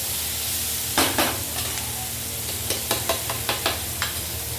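Yogurt goes into a pan of fried vegetables with a soft sizzle, and a utensil then scrapes and stirs in a string of quick clacks, close by and with nobody speaking.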